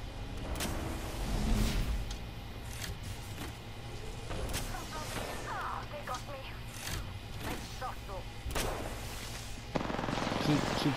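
Gunfire in the shooter Apex Legends: repeated sharp shots and bursts scattered through a busy battle mix, moderately loud, with continuous game noise beneath and occasional louder cracks near the end.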